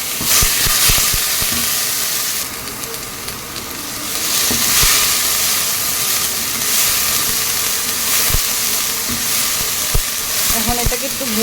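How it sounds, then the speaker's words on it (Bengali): A paste of onion, green chili, cumin and coriander frying in hot oil for an elish (hilsa) biryani gives a loud, dense, continuous sizzle, with stirring scrapes and clicks scattered throughout. "এখন এটাকে একটু ভেজে নেব ভালো করে প্রথমে মশলাটাকে।"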